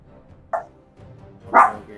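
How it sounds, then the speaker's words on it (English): Dog barking twice, a short soft bark followed by a louder, fuller one, heard indoors at moderate distance against a quiet background. "Oh, I hear a doggy."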